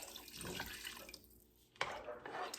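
Water poured from a cup into a pot of diced spare ribs, a steady splashing pour that pauses briefly and then resumes close by.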